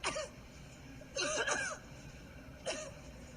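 Several short coughs from a woman in a quiet grocery store in Lincoln, a single one at the start, a quick pair in the middle, then one more.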